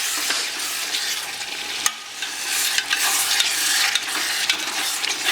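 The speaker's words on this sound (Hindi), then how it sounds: "अब इसे मसाले में अच्छा मिक्स कर लेंगे हम।" Mutton pieces being stirred and fried in a spice masala for Bengali mutton curry, a steady sizzle broken by scraping stirs and a few sharp clinks, close and fairly quiet, with no talk.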